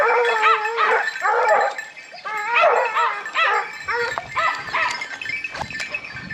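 A pack of hunting dogs bays and yelps at a wild boar during a drive hunt, giving loud overlapping bursts of barking and yipping, then quieter scattered barks over rustling brush.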